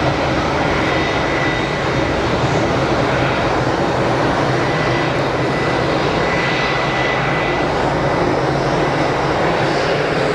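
A Boeing 777-300 airliner at Geneva Airport gives off a loud, steady broadband jet roar that holds near and constant throughout, with no voices.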